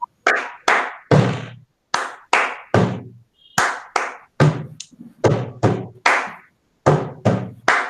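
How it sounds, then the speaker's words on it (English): Two thumps on a desk followed by hand claps, repeated as a crisp rhythmic pattern of close, sharp hits with short silences between the groups, with no other sound underneath. "I'm just 2 times I'm hitting the desk and I'm clapping."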